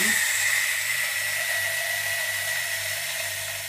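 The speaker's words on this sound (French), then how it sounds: "je vais verser dans le moulin et je vais mettre sur la mouture la plus fine" Coffee grinder running on its finest grind setting: a loud, continuous high-pitched whine with a buzzing motor hum beneath, close and unbroken throughout, easing slightly toward the end.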